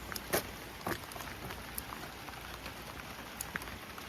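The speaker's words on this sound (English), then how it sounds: "let's go have a quick look at Butch in this rain. Well, this rain poncho I'm wearing is useless." Rain falls steadily outdoors in a garden, a soft continuous patter with scattered sharper drops striking a surface, fairly quiet and with no one talking.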